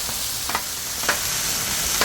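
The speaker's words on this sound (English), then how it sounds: "Chop the chicken here a little bit." Chicken frying on a hot griddle for homemade dog food, a steady bright sizzle with a few soft scraping strokes as it is chopped, close and without talk.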